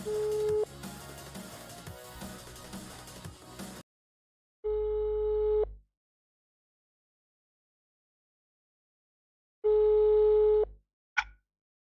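A phone call ringing tone of two long tone bursts separated by silence, following a stretch of louder background sound, then a brief click at the end.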